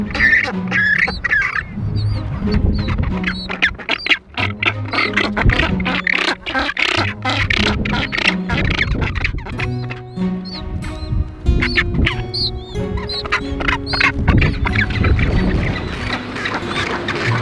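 Rockhopper penguins squabble on a high cliff edge in the Falkland Islands, a dense, loud chorus of harsh overlapping squawks and brays that continues without a break, several birds calling close by at once.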